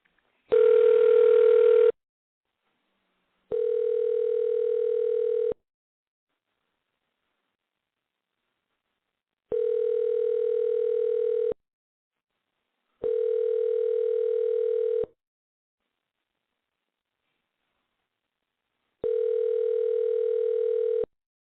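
A telephone dial tone comes in five steady, loud bursts separated by pauses of silence while a call is being placed during a radio show.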